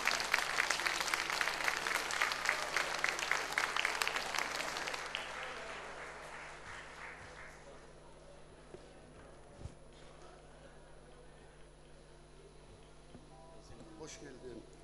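Studio audience applause welcoming a guest on a Turkish television talk show, dense clapping at moderate volume for about five seconds that then fades away, leaving quiet room tone with light movement.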